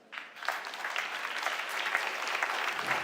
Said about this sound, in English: A Państwo proszę o brawa.